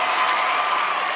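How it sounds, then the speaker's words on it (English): Audience applauding at a live event, a steady, close patter of many hands clapping that fills the short moment without pause. "y'all give him a big round of applause for that"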